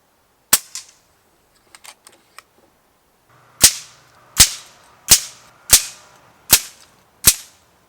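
An FX Dreamline Laminate .177 FAC air rifle fires pellets, sharp close cracks: one shot, a few small mechanical clicks, then six shots at a steady rhythm under a second apart.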